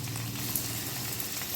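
Paneer pieces frying in oil in a home kitchen pan, giving a steady, continuous sizzle close by with no talking.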